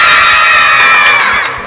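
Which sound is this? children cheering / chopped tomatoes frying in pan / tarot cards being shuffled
children cheering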